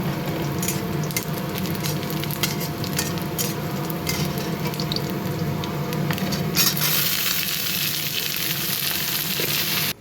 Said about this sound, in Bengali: বসিয়েছি রান্না করবো, একটুখানি করলা ভাজি আর একটু পেঁপে আলুর তরকারি